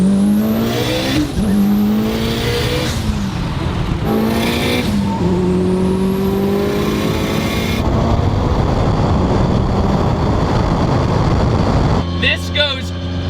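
A tuned 900 hp Mitsubishi Evo accelerates hard through repeated gear changes, its engine note climbing and dropping with each shift, loud and close throughout, ending with a brief burst of talk.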